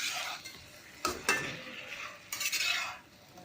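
Spices, cumin powder, pepper and curry leaves are stirred into chicken sukka in a pan: a few scraping strokes and sharp utensil knocks over a faint sizzle, close and fairly quiet.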